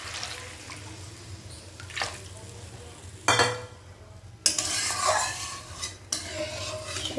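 Water poured into mustard seeds and hot oil in a pan and stirred, a sudden loud splashing hiss and bubbling that surges and settles, with a few scraping stirs before it, all close up.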